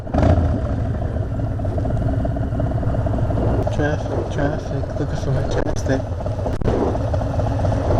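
A stage 1 tuned Harley-Davidson cruiser motorcycle rumbles steadily while riding, a loud low throbbing engine note with wind noise, under a rider talking close to the microphone.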